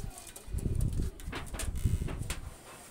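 Pakistani high-flyer pigeons, a pair with the female laying eggs, coo in low throaty bursts up close amid rustling and fluttering noise, fairly loud and continuous.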